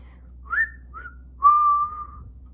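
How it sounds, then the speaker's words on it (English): A person whistles through tightly pressed lips, sounding a short rising note, a brief second note, then a longer steady tone, close and clear against quiet. "Have you ever heard somebody whistle before?"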